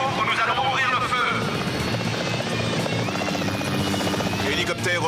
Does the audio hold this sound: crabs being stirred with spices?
no